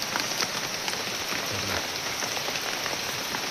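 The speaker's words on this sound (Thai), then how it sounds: "ฝนตกร้ายพี่น้องเอ้ย" Heavy rain pours down in a forest near a makeshift banana-leaf shelter, a dense, steady hiss of drops drumming on leaves and surfaces, close and unbroken, with no one speaking.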